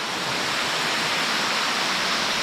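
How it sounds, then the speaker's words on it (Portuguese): Waterfall at Cachoeira Verdinha in Rio das Pedras, São Paulo, swollen after rain, gives a steady, loud, broad roar of falling water with no let-up and no voices. "Mas essa cachoeira aqui ela é bem verdinha a água."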